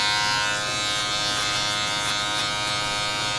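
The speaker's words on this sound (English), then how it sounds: "I'm going to start with my clipper all the way open" A steady electric hair clipper buzzing close up through a men's textured mid fade haircut, with the clipper guard lever fully open. The hum stays constant for the whole stretch, with faint brief cutting clicks and no talking.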